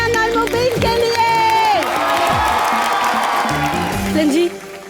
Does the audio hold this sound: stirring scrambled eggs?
no